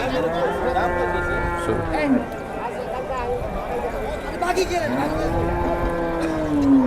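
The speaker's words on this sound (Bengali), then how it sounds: "এই দিকটাতে যা আছে সব অস্ট্রেলিয়ান গরু দুধের গাবি" Australian dairy cows at a busy cattle market moo repeatedly in long, loud, drawn-out calls, close and overlapping amid people talking and general crowd noise.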